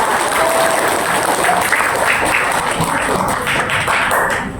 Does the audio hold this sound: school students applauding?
yes